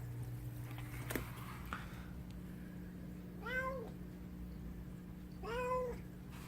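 A domestic cat meows twice, a few seconds apart, each call clear and close over a steady low indoor hum.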